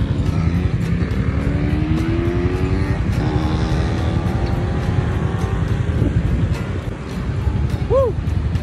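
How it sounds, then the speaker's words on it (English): Motorcycle engines drone and rev steadily as riders travel along, with wind rushing past and occasional voices mixed underneath. "here's a short video of me and my friends riding the motorcycle"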